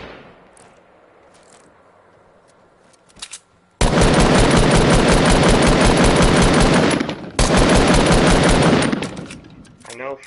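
Automatic gunfire from a video game, with long loud sustained bursts broken by a short gap, following quieter game ambience and a few scattered shots.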